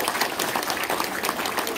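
Audience applause at a provincial governor's public policy briefing: dense, continuous clapping from a crowd, even and sustained throughout.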